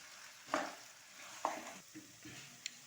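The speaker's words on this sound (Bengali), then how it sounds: "এবারে এটা খুব ভালো করে কিন্তু ফ্রাই করে নিতে হবে।" Okra masala frying in hot oil in a pan while being stirred, with a few distinct spatula scrapes and shuffles over a soft, quiet sizzle heard up close; no talking.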